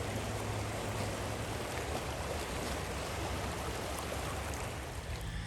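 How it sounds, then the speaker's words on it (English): An Aqualide Chelan kayak rides up and over waves on a moving river, giving a loud, continuous rush of churning water with no voices, close and steady throughout. "It just rides right up and over those waves."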